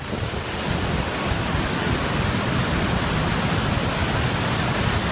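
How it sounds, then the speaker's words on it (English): A landslide-formed waterfall cascading into a deep ravine right beside a mountain road on the Karnali Highway, a loud, continuous broadband roar of rushing water with no talking. "a mountain river changed its course due to a landslide, creating a spontaneous waterfall that cascades into a deep ravine right along the road"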